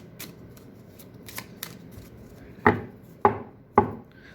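A Romance Angels oracle card deck is riffled, ending in three sharp, crisp card snaps about half a second apart, preceded by quieter rustling and handling of the cards.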